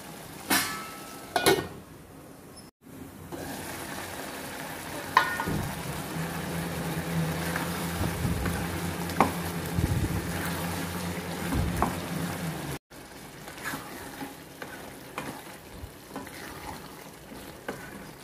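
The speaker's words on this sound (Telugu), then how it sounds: "కారం పొడి పచ్చి వాసన పోయేంత వరకు 1 నిమిషం దీన్ని ఉడకనివ్వాలి." Bottle gourd curry with chili powder cooks in a pan, giving a steady close sizzle and bubbling hiss with occasional stirring clinks and scrapes, broken by two brief cuts to silence, with no talking.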